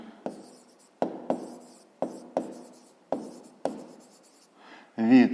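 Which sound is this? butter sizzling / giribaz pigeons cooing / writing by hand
writing by hand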